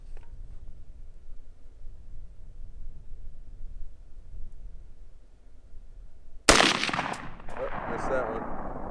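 A single sharp rifle shot from a Colt A2 Government Carbine clone cracks out loudly near the end, fired at a target on a range after a stretch of quiet outdoor ambience, followed by a lingering echo.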